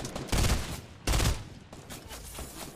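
Rifle fire from a FAMAS in Fortnite, two loud bursts of shots about a second apart, followed by quieter scattered game noise.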